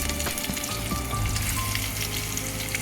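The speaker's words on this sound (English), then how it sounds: "So we have to saute this for a little nice and golden brown." Thin onion strips sautéing for saffron ghee rice, a steady close frying sizzle with occasional stirring scrapes throughout, no talking.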